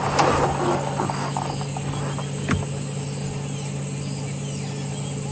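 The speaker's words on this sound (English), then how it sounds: "So you can hear that buzz of the cicadas." A continuous high-pitched cicada buzz drones steadily throughout, with a faint low hum and a soft knock early on, on an evening safari drive at a South African game reserve.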